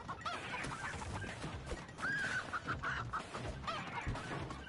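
Chickens cluck in quick, busy bursts over a cluttered cooperative furniture-moving game in Moving Out, the clucks mixed into steady game music and effects.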